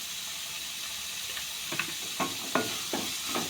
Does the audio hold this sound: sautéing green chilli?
yes